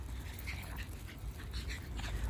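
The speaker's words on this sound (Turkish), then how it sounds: "İki köpeği gezdiremiyorum." Pomeranian dogs panting and softly whimpering close by, a steady breathy texture with faint high whines throughout.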